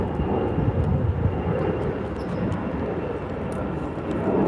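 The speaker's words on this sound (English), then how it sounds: "Let's go for the Delta lifting off in the south side." Delta Boeing 737-800 jet lifting off, a loud, broad roar of jet engines holding steady for several seconds under low cloud, mixed with some wind rumble.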